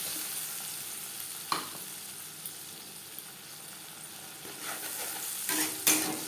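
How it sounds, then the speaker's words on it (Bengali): Coconut and tomato paste hits dried red chilli and whole cumin frying in oil, setting off a soft, steady sizzle. A few sharp spoon scrapes and clatters stand out near the start and the end. "দশ পনেরো সেকেন্ড লঙ্কা ও জিরে ভেজে নেওয়ার পর দিয়ে দেব নারকেল ও টমেটোর পেস্ট"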